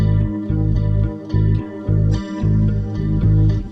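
Bass line from the Neural DSP Archetype Corey Wong plugin's J bass setting playing together with layered guitars with chorus-like effects, a steady grooving rhythmic pattern, full and close.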